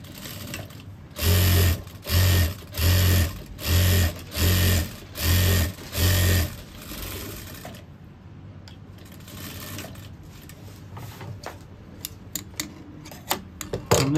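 A sewing machine stitches a shirt collar in seven loud, even bursts of rapid needle running, each about half a second long. Quieter fabric handling and light clicks follow, with no talk.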